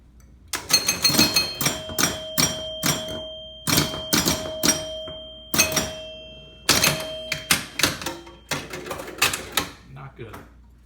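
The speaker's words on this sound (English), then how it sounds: "let's make our first plunge and hear those sweet chimes" A 1973 Gulfstream electromechanical pinball machine rings out chimes and mechanical thunks in irregular bursts, loud and close, with clattering relays and sustained bell tones repeating through play.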